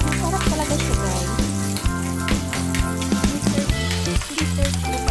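Onion added to a hot pan for a hotdog stir fry with ketchup and oyster sauce, a continuous frying sizzle running under loud, prominent background music.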